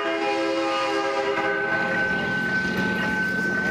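A train passes through a town square, giving a steady, loud rumble with sustained horn-like tones sounding throughout, heard alone with no talking.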